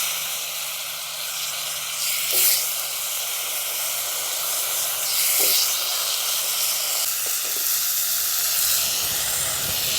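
Cut, washed potatoes with green chillies added to hot oil and tempering spices in a pan, giving a steady, fairly quiet hiss and sizzle throughout with a few brief sharper bursts, no talking.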